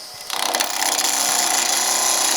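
A gouge carving out the middle of a burl wood piece, a harsh continuous scraping rasp that starts abruptly and holds steady and loud, a depth hole being cut.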